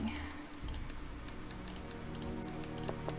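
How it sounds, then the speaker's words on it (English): Rapid keyboard typing from the Nancy Drew game Treasure in the Royal Tower, a steady run of light clicking keystrokes over a low humming background. "Follow the typing."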